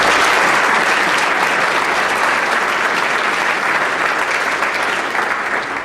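Loud, sustained applause from a large audience at a senior appreciation dinner, dense clapping that stays strong throughout with no voices standing out.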